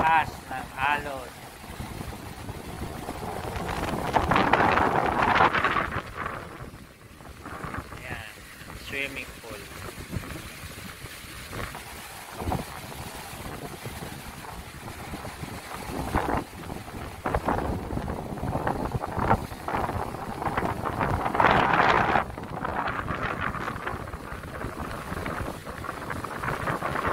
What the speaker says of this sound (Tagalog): Wow, masarap sana maligo dyan sa dagat, kaya lang sobrang lakas ng alon